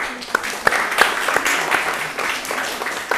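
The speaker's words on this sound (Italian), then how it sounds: "un applauso anche per voi" A studio audience on an Italian television show applauds a visiting school class, with lively crowd clapping full of crisp separate hand claps that swell and ebb over a few seconds.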